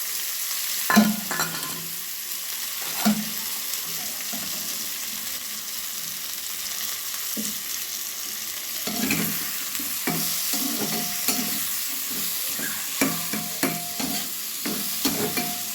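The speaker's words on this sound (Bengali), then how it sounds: "কড়াইয়ে আরও দু চামচ সর্ষের তেল দিয়ে দিলাম এবার এগুলো আমি ভেজে নেব" Vegetables sizzle steadily in hot mustard oil in a wok while a spoon repeatedly scrapes and stirs, producing intermittent clattering knocks over the continuous fry.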